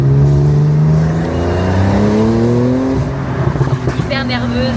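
A supercar engine revs hard up close, its pitch climbing and falling through several loud sweeps, with a brief rattle of acceleration near the end.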